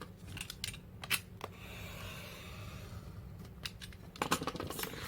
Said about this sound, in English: I'm just aligning it with one of the lines here on the cutting mat, and That's how I'm going to cut it.